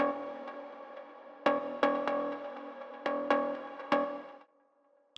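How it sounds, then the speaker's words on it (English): Two layered Repro 1 FM synth voices, high and low octave together, sound as sharp bell-like plucks in a syncopated pattern with ringing decay, then fade to near silence before a final click. "which is an FM sound made with Repro 1."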